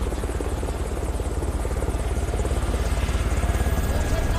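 A helicopter lifts off during an evacuation scene in a zombie film, its rotor chopping in a fast, steady, loud pulse with a constant engine whine throughout.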